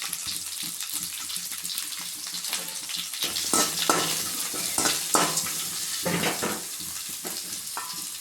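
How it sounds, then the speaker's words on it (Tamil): Two sliced large onions sauté in a pan for rice upma, giving a constant hiss and crackle with bursts of louder stirring and scraping, close and alone. "வெங்காயம் நல்லா வதங்கிடுச்சு."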